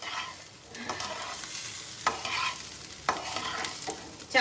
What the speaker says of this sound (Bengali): চালটা ভালো করে ভেজে